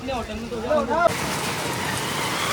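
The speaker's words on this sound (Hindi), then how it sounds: "बहुत तेज़ तूफान हो गया है, आप हवाएं देखिए क्या भाई साहब।" A strong storm with heavy wind and rain blows near the India–Nepal border. A voice is heard briefly, then a dense, steady roar of rain and wind fills the rest at close range.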